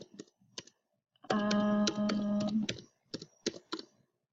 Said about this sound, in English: So funny typing like that in front of the webcam.